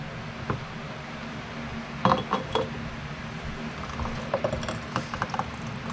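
Glass canning jars for homemade apple sauce clinking together in a kitchen, a few bright clustered chinks and taps over low background noise.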